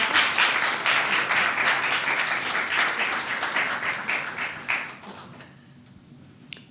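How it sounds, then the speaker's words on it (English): A church audience applauds together in dense, sustained clapping that fills the room. It fades out over the final second or two, leaving a near-quiet tail. "I'd just like to ask for permission now that you're all done speaking for the audience to applaud"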